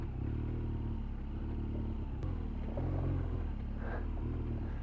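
A BMW R1200GS motorcycle ridden off road: a steady, low boxer-engine drone with rumbling throttle changes and some clattering from rough ground, close and continuous.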